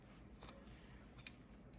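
Scissors snipping through a sock being cut down into a drink koozie for a Dollar Tree Halloween craft, with two quick, faint cuts close by in a quiet room.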